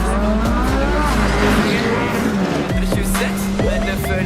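Race cars roar through an illegal street race, loud engines revving and shifting with tire squeals and skids, the noise continuous and close throughout.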